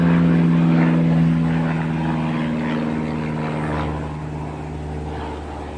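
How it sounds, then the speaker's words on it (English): A loud propeller aircraft drones overhead, its engine tone steady at first and then slowly fading as it passes. "Can't these planes be any louder?"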